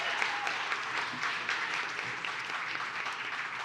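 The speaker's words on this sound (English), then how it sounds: "let's do a round of applause for all 4 of our presenters." Audience at a community crowdfunding event applauds its four presenters: a steady wash of clapping from a moderately sized crowd, sustained and fairly distant.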